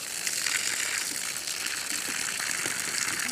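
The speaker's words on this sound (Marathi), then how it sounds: "आता इथं झाडाला सोडायचं पाणी" Water pours steadily onto a sonchafa tree planted along a cattle-shed edge, a continuous close gushing splash that runs without a break and with no one talking.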